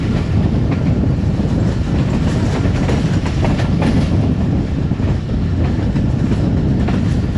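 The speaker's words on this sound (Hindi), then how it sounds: "ट्रेन हमारी इस वक्त कालूबाग रेलवे स्टेशन से पास थ्रू हुई है और काफ़ी ज़बरदस्त रफ्तार के साथ क्रूज़ कर रहा है" The Rehman Baba Express cruises at high speed past Kalu Bagh railway station, a dense, steady roar of rolling wagons with faint rhythmic wheel clatter throughout and no talking.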